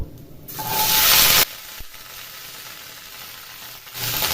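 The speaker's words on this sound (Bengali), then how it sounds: "রসুনটা ভাজা হয়ে গেছে এখন ক্যাপসিকামের টুকরোগুলি এখানে দিয়ে দেব" Capsicum pieces go into oil with fried garlic, raising a sudden loud sizzle for about a second that then drops to a low, steady frying hiss and swells again at the end.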